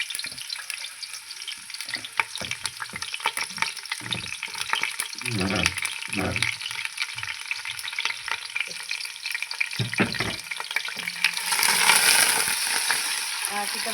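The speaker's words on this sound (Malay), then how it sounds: "Kita masak sampai dia kekuning-kuningan ya bahan-bahan ni." Garlic, ginger and curry leaves frying in oil make a steady, dense sizzle throughout, with occasional clatter and scraping from stirring. No one speaks.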